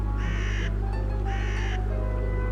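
Crows caw in The Whispered World video game, two loud harsh bursts close together over a steady low background hum.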